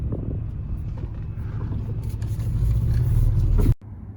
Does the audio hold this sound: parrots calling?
no